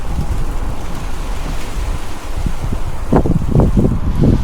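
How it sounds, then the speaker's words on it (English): Steady, roaring wind from Storm Eowyn in a Scottish town, gusting to 30 to 40 mph, buffets the microphone in strong gusts, with some low thumps and rustling near the end. "The wind is still gusting to about 30 to 40 miles an hour"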